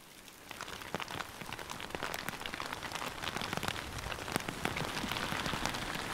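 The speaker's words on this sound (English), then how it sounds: "we had like a hail and rainstorm come in" Heavy rain mixed with hail pelts the ground outdoors during a storm, a dense, steady hiss scattered with sharp, close ticks and patters that build slightly and keep going without pause.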